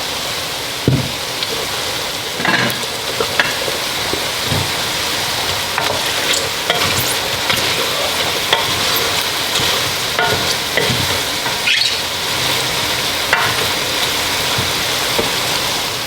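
Matzo balls are stirred into a pot of simmering chicken soup, giving a continuous bubbling sizzle broken by scattered clinks and knocks from the stirring.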